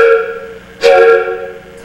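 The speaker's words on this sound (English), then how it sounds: "the motor's whistle." A small streetcar motor, a dinky, sounds its whistle in one bright, steady tone that swells loud partway through and holds, with no talk over it.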